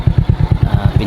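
A motorcycle fitted with a 44mm pure stainless chicken-pipe exhaust idles quietly, its low, steady thumping pulses repeating evenly and close by with no talking.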